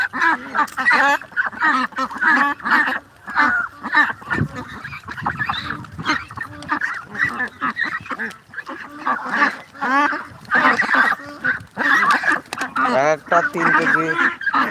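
Loud, nonstop quacking from many domestic ducks nearby on a duck farm, harsh calls overlapping densely with brief lulls between bursts.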